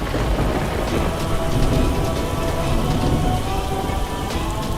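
Heavy rain pours steadily while low thunder rumbles through it, a dense continuous storm wash with no voices.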